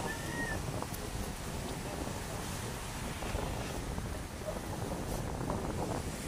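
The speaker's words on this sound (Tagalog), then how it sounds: "sa lakas ng hangin, oh." Strong wind roars steadily and buffets the microphone, with a broad rushing noise throughout and no clear voices.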